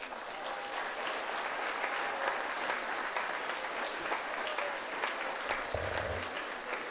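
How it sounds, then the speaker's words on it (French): Sustained audience applause fills a hall at a cdH political breakfast, a dense steady patter of many hands clapping with no pause. "Merci d'applaudir"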